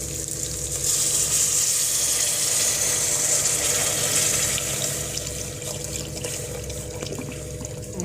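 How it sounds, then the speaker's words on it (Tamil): Water pours steadily and loudly into a pan of spiced barramundi fish curry, a continuous rushing splash that holds for the whole stretch with no voices. "இப்போ வந்து தண்ணி"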